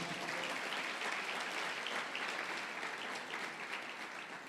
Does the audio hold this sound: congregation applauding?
yes